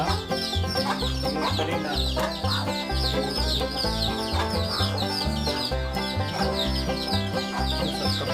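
Brooding hens on a poultry farm cluck continuously in overlapping, rhythmic calls, loud and close, forming a dense barnyard chorus throughout, with a single brief spoken word partway through.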